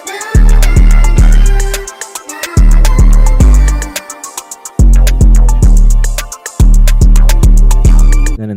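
A punchy beat with a heavy 808 bass line, booming low notes repeating in phrases under crisp hi-hats and melody, loud and full.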